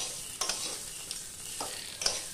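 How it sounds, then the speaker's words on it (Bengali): Rice frying in white oil for khichuri, with a steady sizzle and a few scraping stirs of a spoon through the grains, close and moderately loud, with no voices. "আর এই হচ্ছে চাল ভেজে নিচ্ছি সাদা তেলে"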